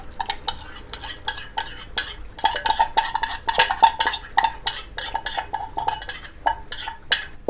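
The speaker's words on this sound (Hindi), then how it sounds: "दही शामिल करने के बाद आपने अच्छी तरह से मिक्स कर लेना इसको" Yogurt being stirred into chicken korma in a pot, a loud run of rapid, repeated scraping clinks of a utensil against metal, steady and close, with no talking.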